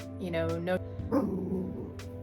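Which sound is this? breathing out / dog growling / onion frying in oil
dog growling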